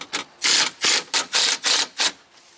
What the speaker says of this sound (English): Now we're ready to torque the bolts.